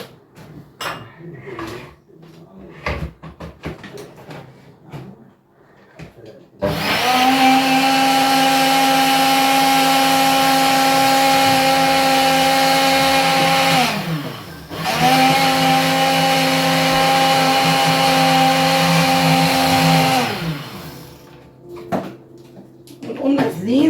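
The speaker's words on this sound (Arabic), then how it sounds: "حطينا بقى ده كده هنضربه في الخلاط اهو" Kitchen blender whirring through rice pudding ingredients in two loud sustained bursts with a brief pause between, motor pitch steady then dropping as it stops; a person talks before and after, with clattering handling noises.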